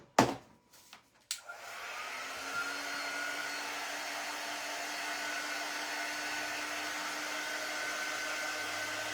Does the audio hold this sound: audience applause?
no